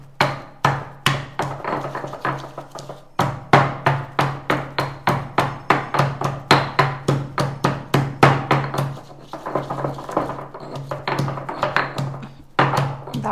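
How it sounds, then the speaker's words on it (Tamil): Green chillies, coriander stems and curry leaves are pounded with a pestle, producing loud, close, rhythmic thuds in fast steady runs with brief pauses between bursts. "இதை நல்லா இடிச்சிடலாம்."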